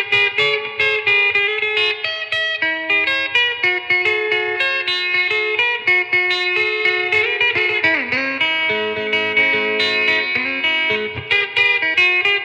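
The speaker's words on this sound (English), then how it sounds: "So the guitar straight in sounds like this." Electric guitar played straight into a Cornell Romany Pro amp without chorus, a bright, chiming run of picked arpeggiated chords with ringing notes, played continuously and alone.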